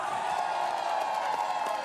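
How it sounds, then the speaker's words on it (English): A large outdoor crowd at a cyclo-cross World Cup race in Hoogerheide cheers and applauds a third-place podium finisher, a steady, loud wash of voices and clapping with scattered whoops throughout. "Huge reception from the crowd for Gianni Vermeerschch."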